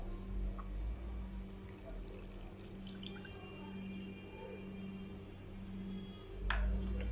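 One cup of water poured from a measuring cup into fenugreek powder, a faint trickling and dripping over a low steady hum, with a short splash near the end.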